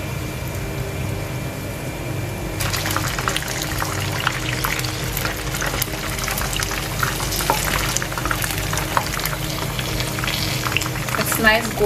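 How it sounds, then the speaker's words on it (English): Steamed chicken momos dropped into hot oil, a dense steady crackle and sizzle that jumps up sharply after the first few seconds and holds loud and close throughout. "I've heated the oil, and let's proceed to fry them."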